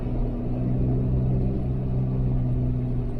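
A vehicle turns a slow donut on a low-grip surface, its engine a steady low rumble that holds close and even throughout.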